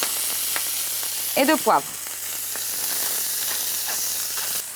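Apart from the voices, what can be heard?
beef skirt steaks searing in a pan over high heat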